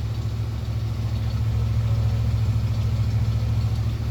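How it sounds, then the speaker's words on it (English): A 1971 Cadillac DeVille with a 472 V8 idles through its exhaust, now fitted with a new resonator, giving a steady, deep low rumble that holds evenly for the whole stretch with no talking. "here's what our exhaust sounds like with the new resonator in place"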